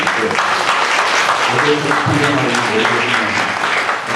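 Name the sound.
audience applause in church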